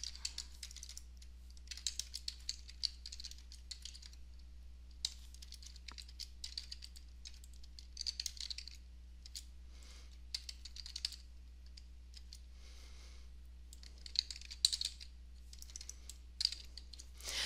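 Quiet, steady typing on a computer keyboard, bursts of rapid key clicks separated by short pauses, close and soft, with no voices.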